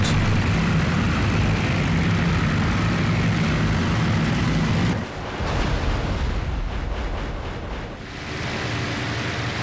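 A loud, steady drone of a Ju-52 transport plane's propeller engine fills the clip, dipping briefly midway before resuming with rougher, fluttering texture as the plane is hit by gunfire.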